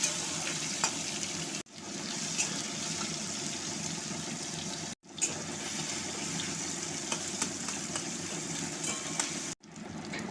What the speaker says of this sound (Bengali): এবার টমেটোগুলো ভালো করে কষাতে থাকবো